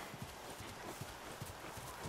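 Horse hooves clip-clop in a steady walking rhythm in the video game The Last of Us Remastered, moderately close and fairly quiet against a soft ambient background.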